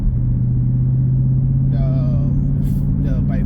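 A Dodge Hellcat Widebody drives slowly in traffic, its engine giving a deep, steady, close rumble heard from inside the car, with a voice briefly speaking over it near the end.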